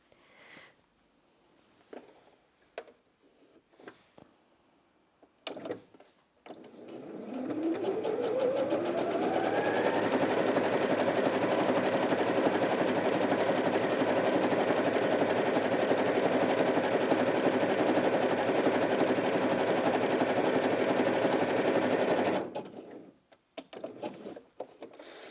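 A Janome 360DC sewing machine runs a zigzag stitch in one steady, loud stretch of about sixteen seconds, its motor whir rising quickly to a constant pitch. Brief handling clicks come before it starts and after it stops.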